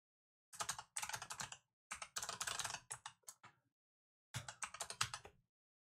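Fast bursts of typing on a new clacky, light-up mechanical keyboard, crisp close key clatter in three runs separated by short pauses and a longer silence near the end.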